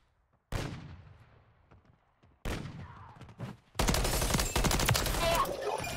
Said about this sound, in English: there's a guy sniping